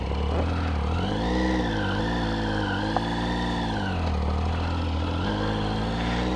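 Motorcycle engine droning continuously while riding on warm roads, rising and falling in pitch with throttle changes, loud and close with steady wind noise.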